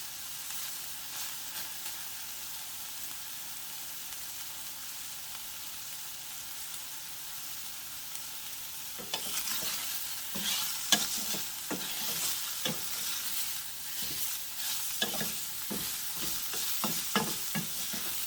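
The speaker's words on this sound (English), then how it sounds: "We will add it back in after our veggies fry just a little bit." Vegetables stir-frying in a pan for a pork stir fry, a soft steady sizzle that turns into a busier crackle about halfway through, punctuated by irregular spatula scrapes and taps, with no voice.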